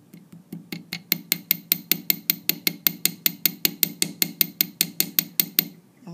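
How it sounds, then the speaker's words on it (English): Steady, rhythmic metallic tapping of a hammer on a metal ring on an anvil, about two dozen bright ringing strikes in quick even succession, close and clear with no talking. "I'm going to gently tap as close to the center of my hammer and away from the edges of the anvil"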